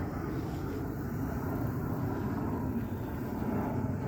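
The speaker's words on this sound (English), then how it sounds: "here's some planes coming by. A couple of them." A steady, low rumbling drone of aircraft engines passing overhead, continuous and fairly distant, with no talking.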